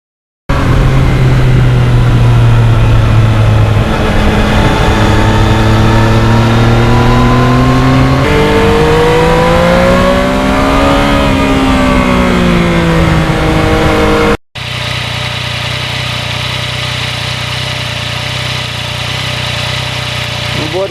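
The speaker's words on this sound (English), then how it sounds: "I never get sick of riding this MT-09" A 2020 Yamaha MT-09 motorcycle is ridden, its engine droning loud and close with rising and falling revs over constant wind noise, then a steadier cruising hum after a brief cut.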